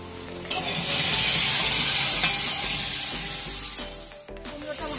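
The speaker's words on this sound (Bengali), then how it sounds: "কুমড়োটা ভাজা হয়ে গেছে।" Pumpkin stalks and pumpkin with broken lentil dumplings (bori) frying in a pan, being stirred. A steady, loud sizzle with scraping stir strokes runs continuously and fades briefly near the end.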